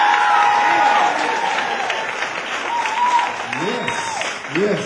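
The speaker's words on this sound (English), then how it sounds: "Clap it up, bring your energy." An audience at a comedy show applauds, a loud burst of clapping that fades to lighter scattered claps, while a host talks over it.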